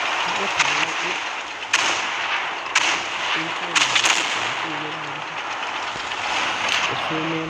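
Cannon fire from a Nashorn tank destroyer in the World of Tanks video game: several sharp, loud blasts at irregular intervals over a dense, steady roar of battle noise.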